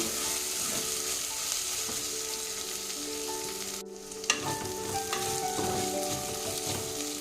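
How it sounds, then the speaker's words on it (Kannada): Paneer and onion masala frying in a pan for a sweet corn pulao, a steady close sizzle with stirring scrapes and clinks running throughout, with a brief dip partway through. "ಈ ಹಸಿ ವಾಸನೆ ಹೋಗೋಕ್ಕೆ 2-3 ನಿಮಿಷ ಫ್ರೈ ಮಾಡಿದ್ರೆ ಸಾಕು."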